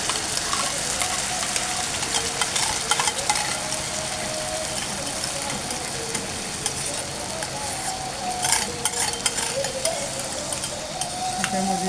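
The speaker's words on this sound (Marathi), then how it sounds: "त्यामध्ये छान परतून घ्यायचं" Yogurt mixed with ghati masala, turmeric and salt sizzles and is stirred in a pan with onions, a steady close frying hiss with occasional scraping clinks.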